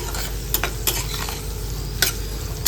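Chili pickle stirred in a pan over low heat, with a spatula scraping in a few distinct strokes over a steady soft sizzle of frying, close by and with no talk.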